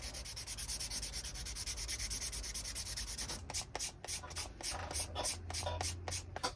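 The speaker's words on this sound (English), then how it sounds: "I'm going to be sanding the leather edges. And the sandpaper I'm going to be using is 600 grit sandpaper." Leather edges are sanded with 600 grit sandpaper in quick rhythmic back-and-forth rubbing strokes, close and steady, turning into slower, more separated strokes halfway through.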